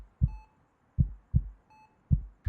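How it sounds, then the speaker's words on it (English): A heartbeat sound effect in a horror audio drama thumps low and close in paired beats, with a faint electronic beep tone sounding above two of the pairs and no voice. "Then a second heartbeat."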